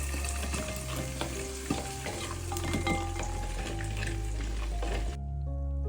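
Chicken frying in oil with tomato paste for manthi gives a loud, close sizzle with constant crackle and stirring scrapes. The sound stops abruptly near the end, leaving only a low hum.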